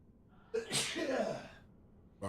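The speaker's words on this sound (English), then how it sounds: "I got to sneeze again." A single close sneeze, a sharp intake of breath followed by a loud bursting exhale that trails off, with a brief noise at the very end.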